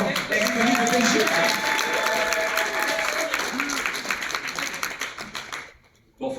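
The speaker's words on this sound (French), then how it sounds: "raison de plus de l'applaudir encore très fort" Sustained crowd applause at a conference, with clapping and cheering, loud and dense, with some voices mixed in, fading out near the end.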